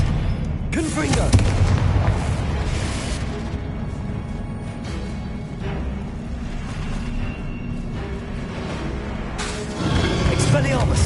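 Confringo blasting spell explosions in Hogwarts Legacy, a dense run of heavy booms and rumbling blasts lasting several seconds, loud and continuous, with voices mixed in.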